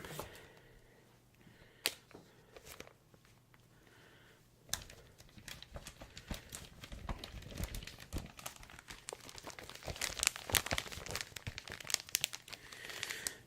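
Glossy pages of a 1978 magazine crinkle and flip close up, with steady rustling and soft crackling handling sounds and no talking.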